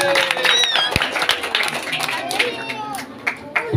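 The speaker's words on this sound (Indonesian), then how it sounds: "Coba kasih tepuk tangan dulu untuk semua regu." A school quiz-contest audience claps for all the teams, a dense burst of many hands with voices and cheering mixed in, loud at first and thinning out toward the end.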